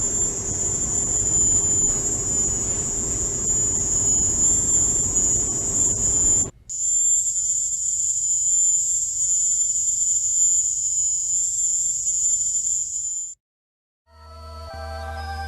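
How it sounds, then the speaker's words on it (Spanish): Antillean cricket of the species Neurogrillus celerinictus, a loud, piercing continuous high-pitched song with rumbling noise beneath, a short break, then the shrill tone resumes before cutting out near the end. "que era el canto de un grillo antillano. Este era de la especie Neurogrillus celerinictus, que es especialmente fuerte y molesto."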